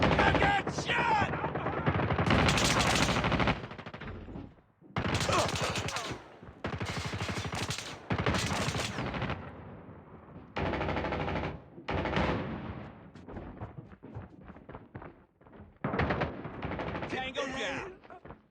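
Gunfire in a Call of Duty match on the Crossroads Strike map: repeated loud bursts of automatic fire and single shots in clusters, broken by short gaps, with a voice now and then between them.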